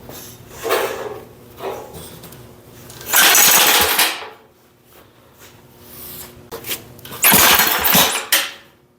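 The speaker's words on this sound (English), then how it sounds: "That was a pop right there. She was trying to fire." An old abandoned small engine with a clogged carburetor cranks in short bursts, sputtering and popping as it tries to fire, with quiet pauses between the attempts.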